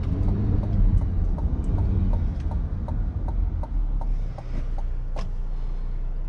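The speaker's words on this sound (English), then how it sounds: "We'll downshift up to the stop sign." Engine of a 2024 Cadillac CT5 sedan in manual mode, downshifting step by step with paddle shifters while slowing toward a stop sign, a steady close low rumble with periodic faint clicks.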